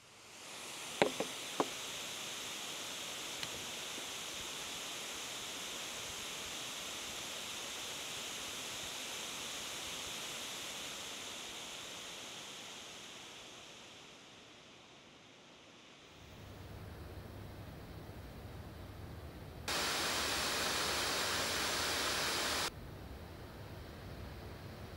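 An Honor MagicBook Pro 16 laptop running in silent performance mode gives off a faint, steady fan hiss that stays even throughout, dips briefly, then shifts to a slightly different tone with a short louder stretch of broadband noise.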